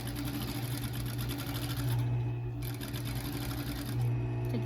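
A sewing machine stitching a fabric face mask hums steadily and loudly up close with a rapid needle rhythm, continuing with only brief dips in pace.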